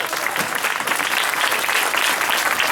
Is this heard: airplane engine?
no